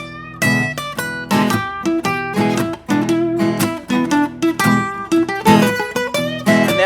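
Electric guitar plays bluesy lead phrases in E of bent and picked notes, punchy and close, with short pauses between licks and no talking.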